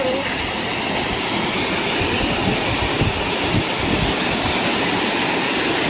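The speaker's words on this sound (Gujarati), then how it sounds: "હા પાણીનો પ્રવાહ તમે જોઈ શકો છો" Loud, continuous roar of water rushing through the open gates of a large Narmada River canal, broad and steady throughout, with a low rumbling churn underneath.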